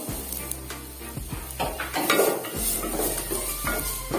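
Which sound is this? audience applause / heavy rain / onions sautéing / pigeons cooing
onions sautéing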